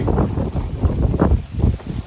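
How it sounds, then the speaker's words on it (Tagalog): Strong gusty wind buffets the microphone in low, surging rushes that rise and fall, loud and close with no voices, on a very hot day in Sydney. "Matatangay ng hangin sa kalakas ng hangin"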